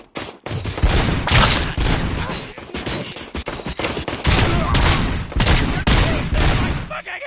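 Dense bursts of gunfire in a RoboCop video game: rapid volleys and fusillades fire in loud clusters separated by short gaps, with occasional shouting mixed in.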